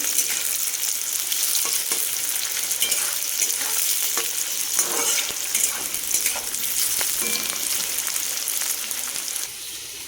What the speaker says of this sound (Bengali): বিরিয়ানির জন্য বেরেস্তা ভেজে নিচ্ছি পেঁয়াজটাকে ভেজে নেব লাল লাল করে